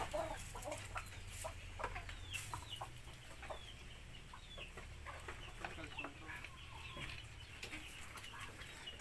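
Sweater black and macre hens with a sweater rooster cluck softly and intermittently in a farmyard, faint and scattered over a low background hum, with a brief wing flap.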